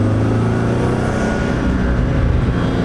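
Opel Speedster Turbo engine heard from inside the car, a loud steady low drone and road rumble with a slight rise toward the end, no voices.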